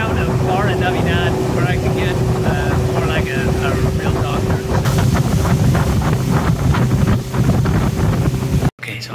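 A water taxi boat heading into the town of Barra de Navidad, Mexico, with steady engine drone, water rush and heavy wind buffeting the microphone throughout, and voices faintly audible under the noise.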